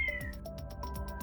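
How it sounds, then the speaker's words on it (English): A house cat meows and yowls repeatedly in the background, its rising and falling cries coming in close succession at a steady loudness for the whole stretch. "I apologize for my cat screeching in the background."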